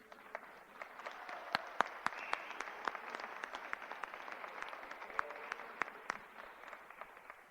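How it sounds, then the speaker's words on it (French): A lecture audience applauds during a talk, sparse individual claps with sharp distinct hits over a soft continuous bed of clapping, fairly distant and moderate in level. "On applaudit."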